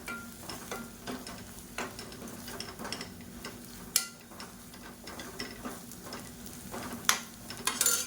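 Onion and curry masala powder sizzle in hot oil in a pan for paruppu urundai kulambu, with a steady low fry under repeated rhythmic scrapes and taps of a stirring spoon, close and fairly loud.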